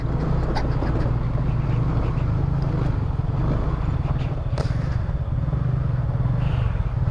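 Idling motorcycle engine, steady and close, a low continuous rumble with a few faint clicks over it, after a slippery ride to a waterfall campsite near Bogor.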